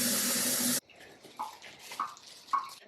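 Tap water gushes loudly and steadily while a flower vase is refilled with fresh water, then cuts off abruptly, leaving faint clinks and handling sounds.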